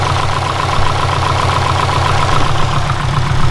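A Subaru engine idles steadily with a loud, constant low rumble and mechanical hum, heard close up and alone without talk.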